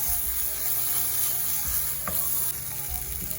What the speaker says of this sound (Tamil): ஒரு வரண்டி காஷ்மீர் மிளகாத்தூள் இது வந்து கலருக்காக டேஸ்ட்டும் இருக்குது அதில் கலரும் இருக்குது வடிவாக இப்போ கிளறி விடுவோம்